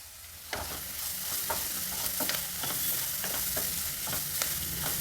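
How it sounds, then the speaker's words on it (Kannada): Vegetables seasoned with turmeric and salt stir-fry in a pan for a hesaru bele avalakki usali. A continuous loud sizzle runs throughout, broken by regular scraping strokes of the spatula and no talk. "ಎಲ್ಲ ತರಕಾರಿಗಳು ಚೆನ್ನಾಗಿ ಫ್ರೈ ಆಗಿದ್ದಾವೆ ನೋಡಿ"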